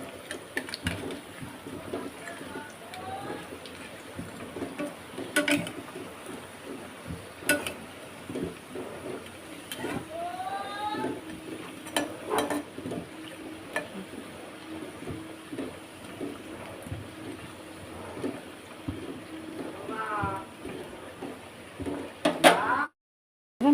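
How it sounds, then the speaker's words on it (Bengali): Rice-flour fritters fry in a pan with a continuous hiss of sizzling oil, broken by scattered clicks and scrapes as each fritter is flipped over. "দেখুন বড়াগুলো আমার একদিক ভাজা হয়ে গেছে। আমি এবার বড়াগুলো উল্টে দিচ্ছি।"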